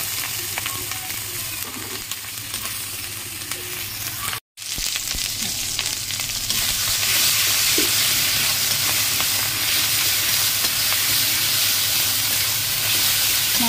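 Spice paste with salt, turmeric and ground chilli sizzles and fries loudly in a pan for a paneer and pea curry, a steady close hiss with stirring scrapes and no talking.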